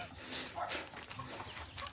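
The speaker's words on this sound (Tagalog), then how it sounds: "Titingnan yung mga manok," Chickens cluck softly in short bursts against a faint outdoor background, with no talking.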